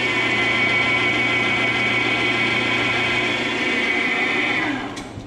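An electric motor fitted with a new run capacitor hums loudly and steadily at close range with a constant whine, then winds down near the end.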